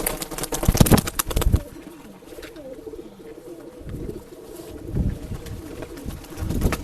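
A female Dhoom pigeon at a pigeon breeder's loft in Bangalore coos in low, repeated throaty phrases, with other pigeons cooing and fluttering nearby; the calls swell in bursts near the start and end over a steady murmur of birds.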